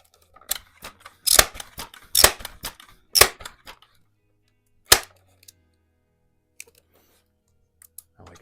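An air rifle fires pellets at metal silhouette targets, giving sharp, separate cracks at irregular intervals, some in quick pairs with a short metallic ring, followed by quieter faint ticks near the end; no talking.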